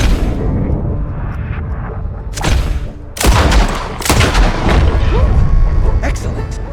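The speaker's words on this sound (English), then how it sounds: "Shoot away." Gunfire in the Red Dead Redemption 2 video game, a couple of sharp booming shots with reverberant tails over a background of voices and game ambience, loud and close.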